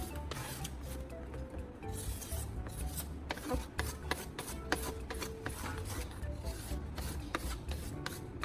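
Sandpaper is rubbed against a car headlight lens in quick, repeated strokes, giving a close, gritty rasping that rises and falls steadily, fairly quiet and with no talking.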